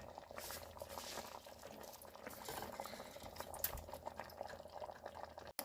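Water pours steadily into a metal pressure cooker, a continuous close splashing and gurgling with no one talking.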